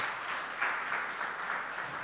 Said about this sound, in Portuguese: Aplauda o Senhor, amado, em nome de Jesus.